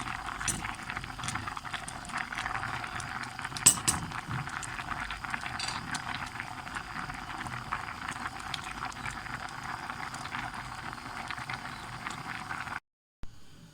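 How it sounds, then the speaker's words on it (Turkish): A pot of homemade erişte noodles simmering on the stove, a soft steady bubbling hiss with faint occasional taps, quiet and continuous until it cuts off near the end. "3-5 dakika daha kaynasın."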